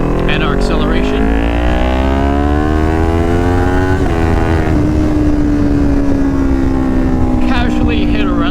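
A motorcycle engine accelerates hard, its pitch climbing steadily through a gear and then holding a high, loud drone, heard close up with rushing wind.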